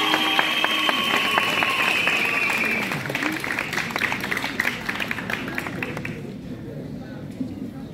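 Audience applause for class award nominees in a twelfth-grade class, a steady wash of many hands clapping at moderate distance, with music or voices carrying through the first half and the clapping thinning toward the end.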